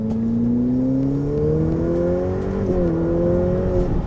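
A Ferrari F8 Tributo's V8 accelerates at about 70% throttle, its loud, smooth engine note climbing steadily in pitch with a brief dip near a gear change, heard up close from inside with no talk.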